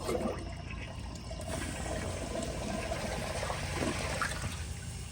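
A 2004 Kohler Highline Ingenium toilet flushes in one continuous rush of swirling, draining water that holds steady and fairly quiet throughout.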